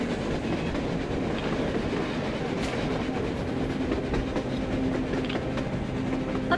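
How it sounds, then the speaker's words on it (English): A train rolls along on the surface in the Metro Exodus game, producing a steady, loud rumble with rhythmic clickety-clack and faint squeals over the whole stretch. "A train! A damn train on the surface!"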